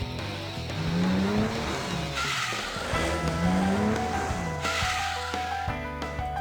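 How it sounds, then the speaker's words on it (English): In a video game, tires squeal in long, rising skids over a loud roaring engine, repeated several times as a car races and corners hard down winding mountain roads. "The car rockets down the winding mountain roads, accompanied by the fierce sounds of squealing rubber."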